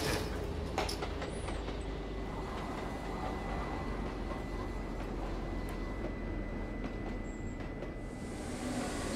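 A Berlin U8 subway train departs in the U-Bahn Sim Berlin game, a steady low rumble of rolling stock with faint whines and clicks at the start, continuous and moderately quiet throughout.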